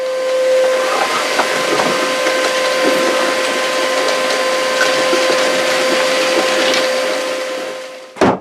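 A hoover runs steadily through a homemade cyclone dust extractor, a loud continuous roaring hiss with a high whistling tone, ending in a brief thump as it shuts off.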